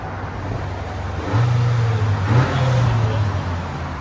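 Stock exhaust of a 2022 Honda Accord Sport 2.0 turbo blipped in a couple of short, muted revs over a low steady idle, quiet and close with a faint background hum.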